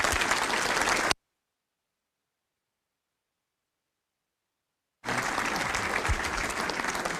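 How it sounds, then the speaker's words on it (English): A room of football supporters at a Sheffield Wednesday trust AGM applauds Martin Cade with dense, loud clapping, which cuts out completely for a few seconds of silence and then resumes just as strongly. "So a big round of applause, please"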